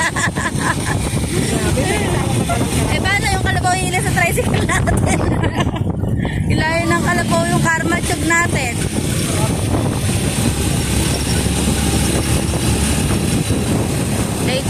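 Motorcycle engine straining up a slippery, muddy uphill road on the way to an onion field, revving and rising in pitch in surges, with people talking over it almost throughout.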